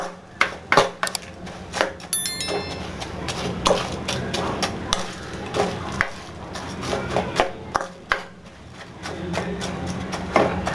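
Boondi being mixed into sugar syrup for laddu: repeated clattering scrapes and taps of a spoon against a metal vessel in an uneven rhythm, close and moderately loud, with a brief metallic ring early on.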